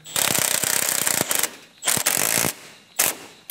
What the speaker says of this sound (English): I'm just gonna snug them with the impact and then we're gonna torque them down.